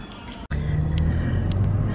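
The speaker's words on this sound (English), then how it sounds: "driving away now" A car pulling away on the road, heard from inside as a steady low engine rumble with a brief dropout near the start, no voices.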